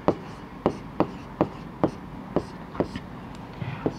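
A pen or chalk taps and strokes out a math solution in short, evenly spaced strokes, about ten in four seconds, close up and fairly quiet over a soft room hiss.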